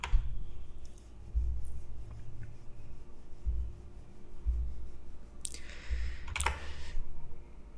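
Code being typed on a computer keyboard during a Python programming lesson: quiet, sparse key clicks and taps in short bursts over a low background hum, no speech.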